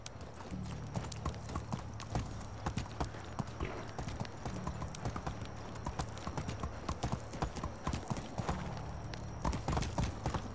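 Horse hooves clip-clop steadily in the medieval life-sim game Medieval Dynasty, a continuous run of close, even hoofbeats over a low droning ambient bed, with no talking.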